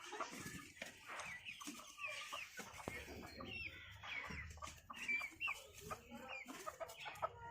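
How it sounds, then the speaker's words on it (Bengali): Chickens cluck softly and continuously while they eat at home, faint and close, with scattered pecks and small knocks among the clucks. "সব মুরগি এখন আসছে, খাবার খাচ্ছে"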